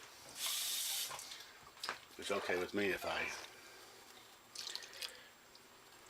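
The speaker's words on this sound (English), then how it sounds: "put a little water in there" Water is poured from a tap into a pot of canned baked beans for slow-cooked barbecue beans: a brief running splash and gurgle, then a few drips. Someone talks over part of it.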